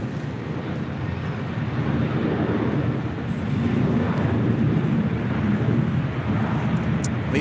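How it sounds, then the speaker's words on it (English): Philippine Airlines Boeing 777-300ER departing LAX on flight 113 to Manila, a loud, sustained deep engine roar that swells slightly midway, with wind buffeting the microphone. "that is the Philippine Airlines flight 113 heading back to Manila"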